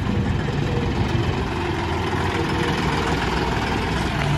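A tractor engine runs steadily nearby, producing a dense, even low-pitched rumble with no pauses or changes in pace.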